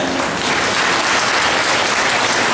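Loud, continuous applause from a large crowd, dense steady clapping throughout with no voices standing out.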